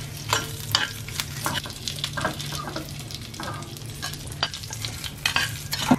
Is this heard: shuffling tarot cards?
no